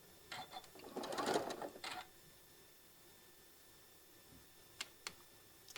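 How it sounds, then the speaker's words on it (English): Sewing machine stitching down maple leaf table runner pieces, a short burst of rapid mechanical whirring and ticking near the start, then quiet with a few sharp isolated clicks, no voices. "we're going to get these stitched down"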